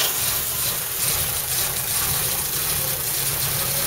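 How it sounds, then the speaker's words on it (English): Original in-tank fuel pumps on a Jaguar E-type fitted with fuel injection and electronic ignition run with a loud, steady, whirring hum that carries a broad rushing hiss and a low rumble, constant throughout with no talk. "can hear the pumps firing up because you do retain your original fuel pump from the tank to the actual glass bowl"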